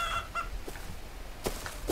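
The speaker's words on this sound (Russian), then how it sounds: "Так, курица." A chicken in the video game Rust gives a few short honking clucks, a pair of tonal calls first, then scattered sharper squawks, fairly close and clear with no talking.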